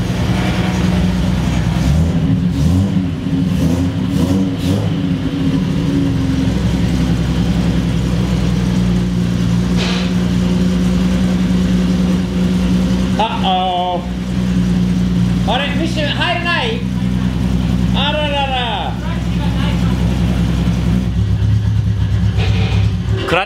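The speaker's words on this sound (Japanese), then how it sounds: "エンジンウォーミングアップしてから" A Datsun 240Z engine runs through a long warm-up, rumbling steadily near the listener with uneven revs and a few sharper bursts, while people talk over it now and then.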